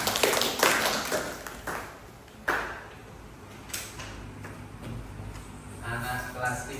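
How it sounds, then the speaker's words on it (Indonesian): A primary school class claps for a student, with a burst of scattered claps that thins into sparse taps and faint background voices in the classroom. "Tepuk tangan untuk Mbak Anissa"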